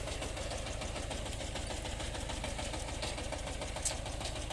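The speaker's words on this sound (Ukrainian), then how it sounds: "Можна самого ставити орати трактора." A tractor engine runs while ploughing a field, a steady close mechanical drone with an even knocking pulse, unchanging from start to end.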